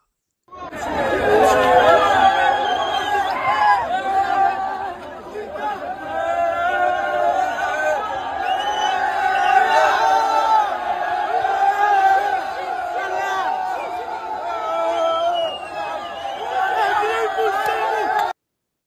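A crowd shouts and chants in a played video clip, a loud, dense mass of many voices with rising cheers and yells that continue throughout.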